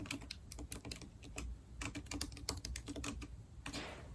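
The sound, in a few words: typing on a computer keyboard while writing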